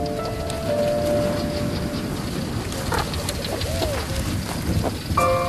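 Rain falling as the first storm of the year arrives over the Kalahari, a dense steady patter of drops with birds calling faintly over it and a low rumble beneath.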